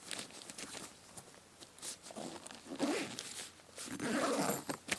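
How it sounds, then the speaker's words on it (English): A zipper on a Hilleberg Nammatj 3GT tent is drawn around in a series of quick, raspy pulls and tugs, close and fairly quiet, with short pauses and fabric rustling between strokes. "So we take the zip around that way, that zip around that way"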